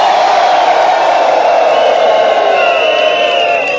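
A rally crowd cheers and shouts steadily throughout, a dense, loud wall of voices with whoops rising above it.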